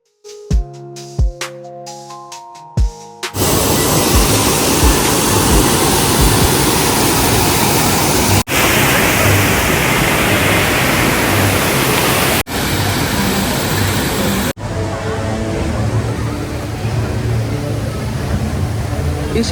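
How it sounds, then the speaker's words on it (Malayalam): A waterfall at Disneyland Paris sends up a loud, continuous roaring rush of falling water that fills the scene after a few brief tonal notes at the start. "ഇതൊക്കെ വെള്ളച്ചാട്ടം"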